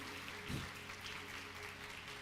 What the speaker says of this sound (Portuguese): Pode aplaudir ao Senhor, mas aplauda bem forte